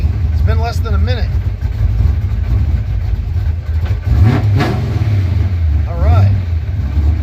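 A car engine runs steadily right after starting despite a fuel delivery problem, a low idle hum with a couple of swells, while people talk close by over it.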